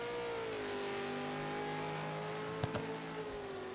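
A V8 Supercars race car runs on the track at Bathurst. Its engine drones steadily at a distance with a sustained, slightly falling pitch, and a brief sharp clatter sounds near the end.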